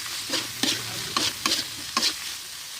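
Dried fish frying in hot oil with salt and turmeric, with five or six sharp spatula strokes scraping and stirring over a low sizzle, close and alone.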